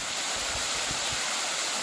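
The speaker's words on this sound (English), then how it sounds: "Nice waterfall there." Waterfall at an old quarry in a Georgia state park, a steady full-bodied rush of falling water heard close with no voices.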